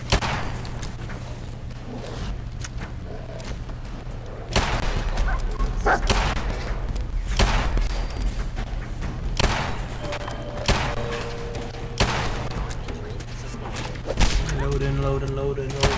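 Modded guns fire in a Fallout game, a series of loud sharp shots and heavy thuds spaced irregularly through the clip, with someone talking in between.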